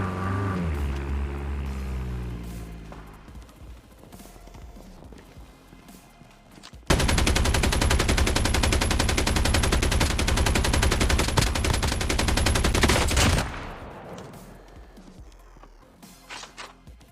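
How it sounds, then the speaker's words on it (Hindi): Sustained automatic gunfire in the Call of Duty Mobile video game, a loud continuous burst of about six seconds that follows and precedes quieter game sounds, with no talking. "उसके बाद मुझे गन साउंड आती है किसी के बॉट स्कैम करने की"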